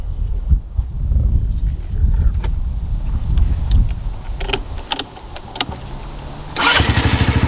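The engine of an Amigo Jasscol 200 trike, a Can-Am clone, cranks over with clicks and rattles before catching and settling into a loud, rapid, throbbing idle close by; people talk over the starting.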